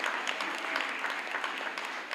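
Members of a cooperative society gathered for their 30th annual general meeting applaud together, giving a dense, even patter of clapping that holds steady at moderate volume throughout.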